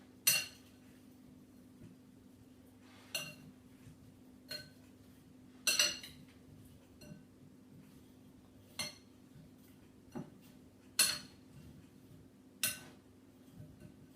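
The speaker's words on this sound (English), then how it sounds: "use your hands or a spoon just to toss all of those potato wedges" Potato wedges tossed in a bowl with a spoon for crispy wedges, giving scattered clinks and scrapes of metal on the bowl at irregular intervals, fairly quiet against a low steady hum.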